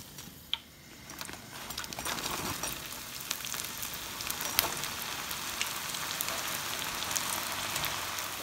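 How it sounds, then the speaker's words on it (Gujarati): Cauliflower Manchurian pieces fry in very hot oil, a dense rain-like sizzle that swells after the first second and continues with scattered sharp pops. "સાવ ગરમ તેલમાં નાખશું ને આપણે એને પાછું જરાક તળશું કે શું ફાઇન રીતે ક્રિસ્પી થઈ જાય"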